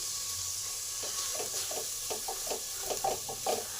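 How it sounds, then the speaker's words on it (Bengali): Washed lentils are stirred in a pan with ginger paste, a soft sizzle steady underneath while the spoon scrapes in quick, uneven strokes, close and fairly quiet, with no talk. "এই ডালটাকে কয়েক মিনিট ভালো করে একটু নেড়ে নেব"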